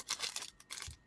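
Scissors snip through the plastic packaging of a makeup palette in a few quick, quiet cuts with soft crinkling between them.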